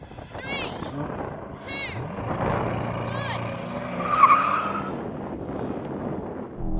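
Sports cars, a Chevy Corvette, Audi R8 and Porsche 911, launch off the start line with tire squeal and rising engine roar, someone talking over the noise.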